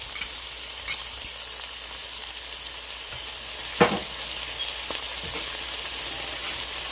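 Garlic sizzles in a hot frying pan for pepper steak, a steady bright crackling hiss with a few louder pops and stirring clatters, no voices.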